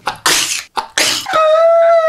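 A person whose scalp is covered in a mix of eleven hair dyes gives two quick, breathy sneezes close by, followed by a drawn-out voiced sound.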